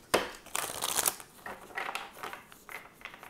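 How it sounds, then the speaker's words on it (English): A large tarot deck, two decks mixed together, is shuffled by hand: close, crisp bursts of riffling and card slaps, one sharp snap at the start, then softer uneven shuffles at a moderate level. "That's why I'm struggling to shuffle it."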